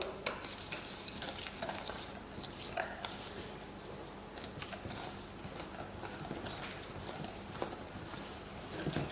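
Lime pound cake batter is stirred in a bowl, giving a steady, moderately quiet scraping and sloshing texture with small irregular knocks throughout.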